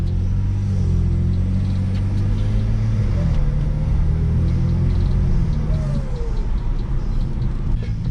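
A tuned BMW 335 on a cold start accelerates and shifts gears, its engine rumbling steadily up through the revs with audible pitch drops at each shift, loud and close from inside the car.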